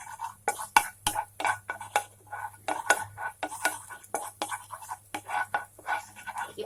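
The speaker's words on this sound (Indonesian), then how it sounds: "Kita akan tumis terus sampai dia harum" Onions and garlic are sautéed in a pan, a spatula or spoon scraping and clinking against the metal in quick irregular strokes over a low steady hum, fairly close and moderately loud.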